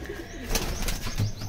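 Giribaz pigeons of the Madras type coo in a loft, soft throaty calls repeating close by over a steady low background, with no talking.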